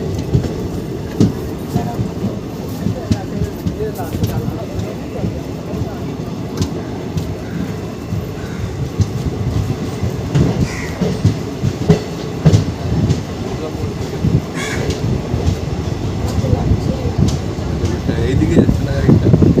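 A passenger train on the Kolkata to Darjeeling line rolls along the rails with rhythmic clickety-clack and a continuous rumble inside the coach. Voices talk over the noise, which grows slightly louder toward the end.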